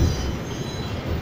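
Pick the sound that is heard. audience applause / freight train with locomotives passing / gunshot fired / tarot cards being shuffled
freight train with locomotives passing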